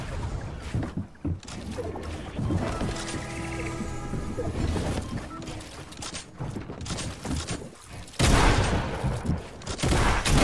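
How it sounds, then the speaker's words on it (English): Rapid gunfire rattles through a video game firefight, a dense continuous barrage of shots and mechanical clatter that swells louder toward the end, with no speech over it. "I'm being shot at."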